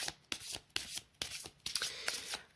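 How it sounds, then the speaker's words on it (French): Oracle cards being shuffled by hand before a three-card draw, giving a series of soft papery riffles and slaps in quick bursts, close and fairly quiet with no talking. "on va se faire un petit tirage avec 3 cartes."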